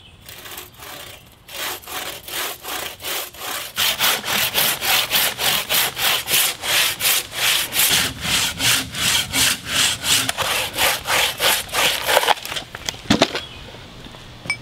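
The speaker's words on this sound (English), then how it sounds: "The first tool I'm using is a crosscut saw." A crosscut saw cuts through a large log for a carved bowl blank, its rhythmic back-and-forth strokes loud and close, starting slow and settling into a steady quick pace before stopping with a final scrape.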